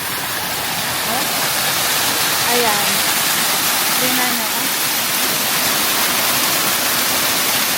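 A waterfall pours steadily in clear water, a loud, continuous broadband rush filling the whole clip while someone speaks over it.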